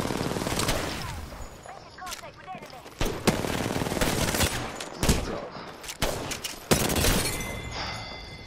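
Automatic weapons rattle in the battle royale game Apex Legends, sustained close bursts punctuated by sharper single cracks and impacts, while a player talks over the firefight.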